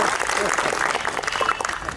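Steady audience clapping rings through a community conference hall in Guna, Madhya Pradesh, a dense continuous wash of hands without pause.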